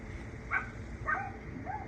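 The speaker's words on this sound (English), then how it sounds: "please mind the dogs in the background. They're excited about it too." Excited dogs bark in the background, three quick yips spaced about half a second apart, faint and somewhat distant, with no talking.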